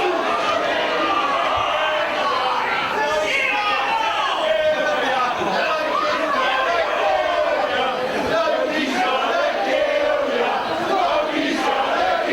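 A wrestling crowd jeers at Hayden Vanson, a dense continuous roar of shouting and chatter with no breaks, loud and close throughout.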